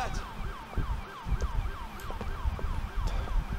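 An ambulance siren in the GTA IV LCPDFR police mod, a repeating wailing tone sweeping up and down in steady cycles, fairly near, over low traffic and engine rumble, with no voices.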